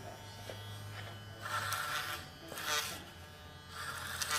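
An electric barber's clipper buzzes over a comb while trimming bulk from a boy's hair, the hum swelling into several louder bursts as it cuts, close and alone.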